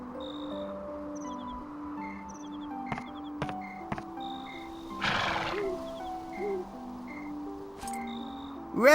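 A horse whinnies in the video game Dragon Quest VIII, a long shaky neigh over a backdrop of layered game music tones, with a couple of sharp clicks and a brief swell of noise midway.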